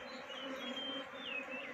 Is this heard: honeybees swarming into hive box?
yes